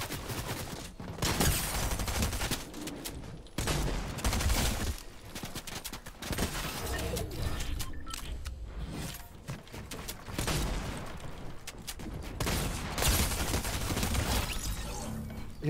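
A rapid-firing weapon in a battle royale video game unloads in long, loud, dense bursts, with brief gaps between volleys and a steady roar of shots filling the stretch.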